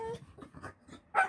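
A female dog named Queen whimpers and yips in a few short, quiet bursts close by, ending in a sharper, higher whine.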